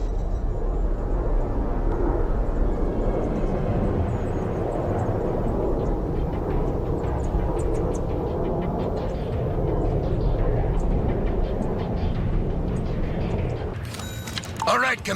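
Military jet aircraft engines roar steadily through a Broken Arrow battle, with an F-15EX on the way. A low, sustained rumble fills the scene under ongoing game sounds, dropping off near the end.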